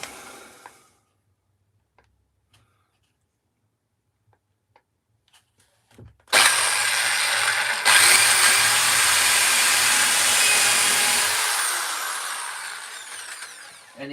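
A power drill bores a hole during a woodcarving session, starting after a near-silent pause and running loud and steady for several seconds before tapering off.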